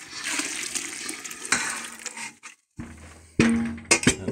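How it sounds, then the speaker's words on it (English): Whey being poured from a bowl back into a cooking pot during homemade mozzarella making, a close splashing pour with clinks of a container, a brief pause, then a louder gush and splash. "And I'm going to pour this whey back into the pot."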